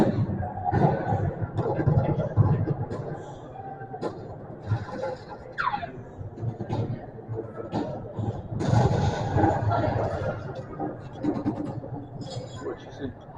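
An MG-42 machine gun simulator in a museum fires loud, sharp bursts that echo in an indoor hall, over a constant background murmur of visitors.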